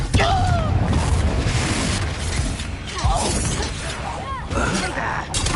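Confringo spell blasts in Hogwarts Legacy, with sharp bursting impacts and crackling, shattering debris amid busy combat noise, loud and close, with brief whooshing casts repeated across the stretch.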